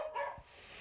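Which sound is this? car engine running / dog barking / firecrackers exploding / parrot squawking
dog barking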